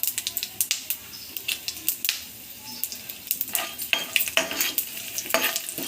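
Dry red chillies and peanuts frying in hot oil for a tempering, crackling and popping in sharp bursts with a steady sizzle beneath and occasional scraping of a spoon against the pan, close and lively throughout.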